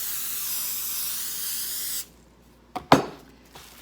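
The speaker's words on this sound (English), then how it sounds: "Then I'm going to spray it." A spray can hisses steadily over whole wheat bread dough for about two seconds, then cuts off, leaving a few short clicks and knocks of handling.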